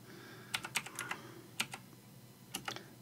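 Close typing on a computer keyboard enters a command at a Windows 10 command prompt: short clusters of crisp keystrokes, a quick burst, another brief group and a final flurry, separated by quiet gaps.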